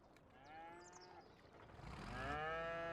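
Cows in the farming video game Farming Simulator 25 moo, with one long low call followed by a louder, closer second moo, heard alone without talking.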